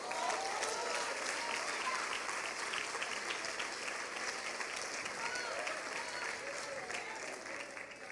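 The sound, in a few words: church congregation applauding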